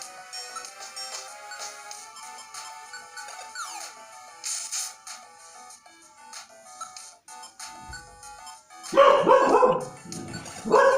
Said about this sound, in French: c'est ma chienne qui aboie sans raison